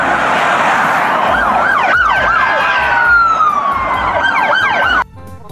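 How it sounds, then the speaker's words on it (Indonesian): A toy police car siren wails loud and close, rapid repeating electronic yelps that run continuously for about five seconds and then stop abruptly. "kalau yang ini mobil polisi Fortune"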